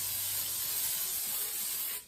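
A cooking spray can hisses a steady, close burst of oil onto a baking dish for gluten-free focaccia, one continuous spray that cuts off abruptly.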